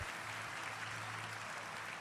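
A church congregation clapping together, a steady wash of applause at a distance, fairly faint with a low hum from the hall beneath it.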